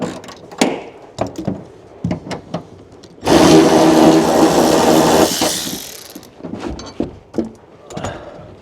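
An impact driver runs on a truck door hinge in a single sustained, loud burst lasting a few seconds, with clanks and knocks of handling before and after.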